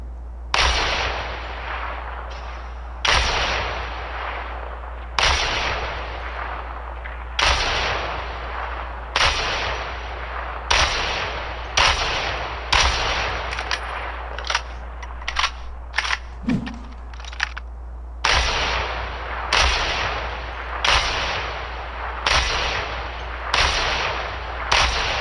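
Sniper rifle shots in a video game, heard as a long series of sharp, loud cracks spaced a second or two apart, each with a short decay, with no talk over them.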